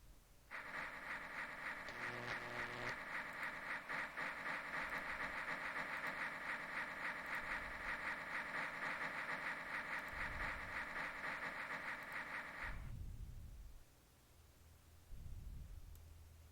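Trains in the video game OpenTTD run steadily with a loud, even mechanical hum and rhythmic rattling, then cut off abruptly, leaving a quiet background with a few low thumps.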